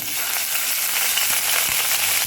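Curry leaves crackle in hot oil already tempered with asafoetida, a dense, close, continuous sizzle with a few sharper pops over about two seconds.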